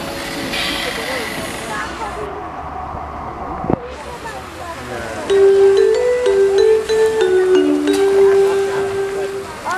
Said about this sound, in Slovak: Pri koľaji 2 vľavo dávajte pozor, po koľaji sa bude posunovať.